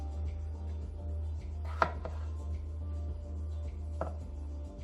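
A kitchen knife slices potatoes into fries on a cutting board, giving a couple of sharp chopping strikes against a steady low hum; close and moderately loud, with no talking.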